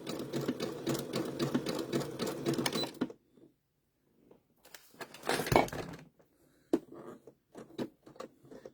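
A sewing machine stitches quilt block fabric in short bursts, a fast buzzing run that stops abruptly, then a brief second run among scattered clicks and handling noises.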